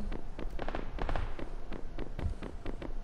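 Gunfire in PUBG during a hillside ambush, a run of quick cracking shots and impacts at a steady clip over a constant rumbling background.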